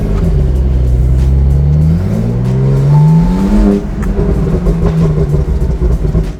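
A 720-horsepower Porsche Turbo S accelerates hard from inside the cabin, its exhaust roaring as the engine climbs through gears with a brief shift dip, loud and close throughout.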